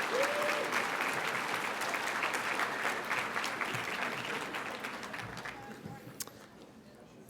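An audience at a STEM scholars meeting opening plenary applauds steadily in a large room, then slowly fades, with a few voices faintly under the clapping.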